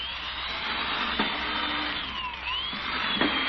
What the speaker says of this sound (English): Look how it drill holes through this board.